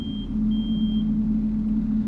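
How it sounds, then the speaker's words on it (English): HydroTrike engine idling in Farming Simulator 25, a steady low droning hum, with a thin high electronic beep tone sounding twice near the start. "turn on the engine"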